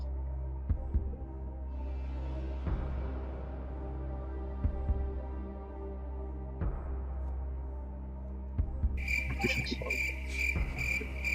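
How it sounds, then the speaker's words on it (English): Cricket chirping played as a sound effect, a steady pulsing insect trill under a low hum with scattered soft thumps, a brighter burst of chirps near the end. "Crickets."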